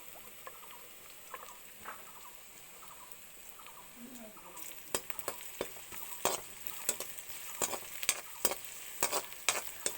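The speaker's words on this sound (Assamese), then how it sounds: "অলপ দেৰি এনেকৈয়ে ভাজি ল'ম।" Ginger-garlic paste frying in a pan, a soft steady sizzle broken by sharp scraping clicks of a spatula stirring, growing busier and louder in the second half.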